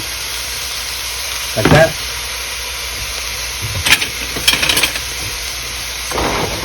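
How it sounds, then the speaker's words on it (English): Garlic sautéing in a pot, a steady sizzling hiss broken by several bursts of stirring and scraping, with a few words spoken briefly. "we're just gonna saute this down till it sweats down and reduces"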